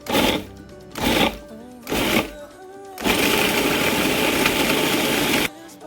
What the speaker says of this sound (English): I decided to use the Cuisinart, and I'm going to go ahead and pulse this a little bit to mix it up.